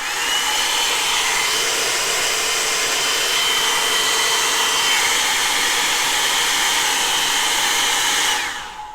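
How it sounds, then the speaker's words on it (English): A Remington Wet2style oval hair dryer brush blows air at a steady loud, hot setting, a constant close whoosh with a whine on top, then cuts off abruptly near the end. "So this one gets much hotter and much louder."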